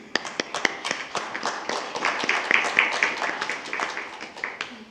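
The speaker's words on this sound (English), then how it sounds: "Let's really recognize and give them all a round of applause." Applause from the audience at a school district board meeting, many hands clapping irregularly and fairly close, a continuous patter that swells slightly midway and carries on without voices.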